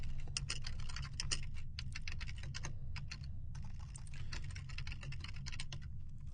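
Rapid, steady keystrokes on a computer keyboard while writing code, close and clear, with brief pauses between bursts over a low background hum.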